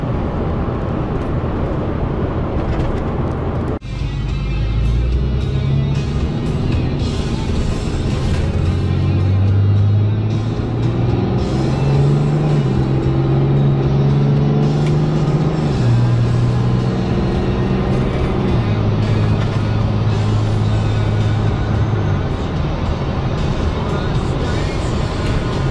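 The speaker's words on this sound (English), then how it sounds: "truck's running awesome" A pickup truck with its mega cab modules deleted drives along, a steady engine and road rumble after a sharp knock early on, with the engine note rising and shifting throughout.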